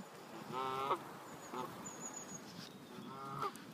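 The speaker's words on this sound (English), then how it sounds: "geese are currently right by my rods" Geese honking near fishing rods at a lakeside, three separate honks spaced a second or two apart, moderately faint over a quiet outdoor background.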